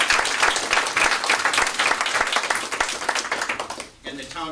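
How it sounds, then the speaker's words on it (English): Applause from the audience at a town meeting, a dense wash of clapping that holds steady for about four seconds before cutting off abruptly, followed by a faint tail. "So would you please give them a big round of applause?"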